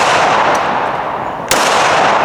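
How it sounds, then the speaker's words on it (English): Gunfire aimed at a pane of bulletproof glass, heard as one sharp, loud report cutting through steady outdoor wind noise, with a fainter crack earlier. "Let's shoot some more."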